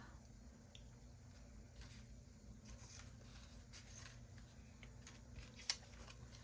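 Paper being trimmed with scissors for a Valentine zine, several quiet crisp snips spaced irregularly against a faint low room hum.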